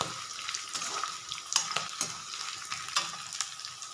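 Peanuts frying in oil in a pan for lemon rice, a soft steady sizzle broken by repeated stirring scrapes and clinks, close and fairly quiet.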